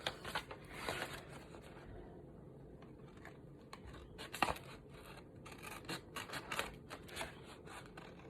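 Scissors trim a ragged edge off a sheet of paper for a card page, quiet close snips and papery rustles in irregular bursts against a soft background, with no speech.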